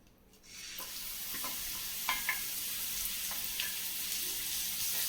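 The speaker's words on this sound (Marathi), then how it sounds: "आपण त्यात थोडंसं तूप टाकून दुधाचा जो खीस आहे तो थोडासा परतून घ्यायचा आहे" Grated bottle gourd fries in ghee in a kadai for kheer, a soft sizzle rising after a quiet start and holding steady, with a few light scraping stirs on top.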